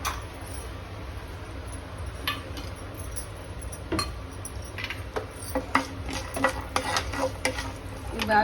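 Frying and stirring in a pan while cooking an Andhra dish with mustard seeds and dried red chillies: a steady sizzle runs underneath as a spoon scrapes and clinks against the pan in irregular strokes, louder toward the end.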